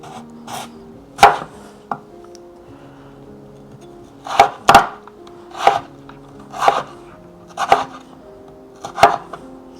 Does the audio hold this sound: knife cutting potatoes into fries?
yes